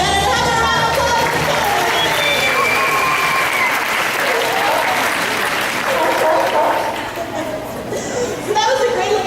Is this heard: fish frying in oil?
no